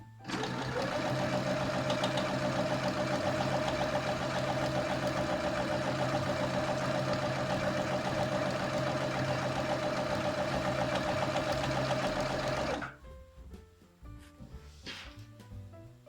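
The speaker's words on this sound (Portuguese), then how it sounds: "Aqui no início do avental podem passar uma costura de retrocesso para fixar da melhor forma o nosso avental" A sewing machine stitches an apron in one steady, fast, continuous run for about thirteen seconds, loud and close, then stops, leaving faint handling noises.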